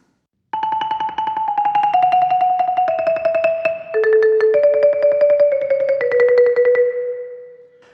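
Two-mallet marimba rolls play a melodic line from the Allegro of Handel's Violin Sonata in D Major, each roll starting at the same volume as its sustained body, giving steady, smooth tremolo notes that step downward, played solo and close.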